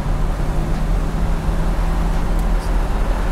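A 1969 COPO Camaro replica with a 427 engine cruises in fourth gear, giving a steady, deep engine rumble with a held tone and road noise from inside the car.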